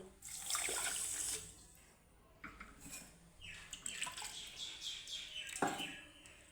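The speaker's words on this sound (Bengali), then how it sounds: "এই পরিমাণ মতোই মেপে আমি দু কাপ দিয়ে দিব জল" Water is poured from a cup onto 200 grams of sugar to make syrup for raw mango rosogolla. It makes a faint splashing trickle in a few uneven bursts, close by in a quiet kitchen.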